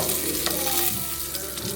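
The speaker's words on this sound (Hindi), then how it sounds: "और अब हम इनको सौटे कर लेंगे क्योंकि हमें बनानी है एक अच्छी सी थिक" Onions, tomatoes and garlic sauté with whole spices in a pan for a thick Indian gravy, giving a steady close sizzle and bubbling hiss with no talking.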